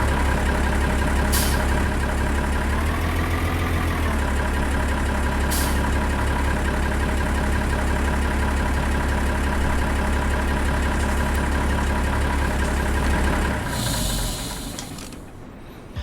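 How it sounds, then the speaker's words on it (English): A tractor engine in the farming game Walchen idles with a loud, steady, deep drone for several seconds, then briefly swells as the tractor moves before the sound cuts off near the end. "Let me put this tractor away."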